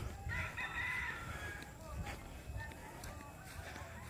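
A gamecock crows at a cockfighting practice match, the crow heard near the start, with other fowl clucking faintly amid outdoor noise and people talking throughout.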